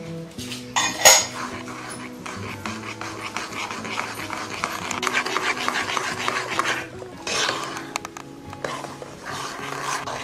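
Ghee being mixed into a laddoo mixture in a pan, with steady scraping and clinking of a utensil against metal over a sustained background of cooking noise, with no one speaking.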